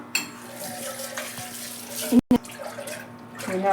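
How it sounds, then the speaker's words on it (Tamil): Tamarind being washed under a running kitchen tap, a steady close rush of water splashing into a sink, briefly cut off once before flowing again; no talk is heard. "இதுக்கும் குழம்புக்கும் சேர்த்து தேவையான அளவு புளி இந்த ஒரு கழுவு கழுவிக்கலாம்."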